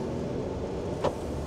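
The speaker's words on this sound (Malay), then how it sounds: "Bunyi enjin macam BMW." A Jetour Dashing engine in sport mode hums steadily from inside the cabin, a low continuous drone with a brief higher whir near the end.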